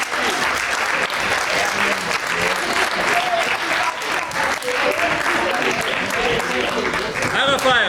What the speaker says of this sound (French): Une bonne balle d'applaudissements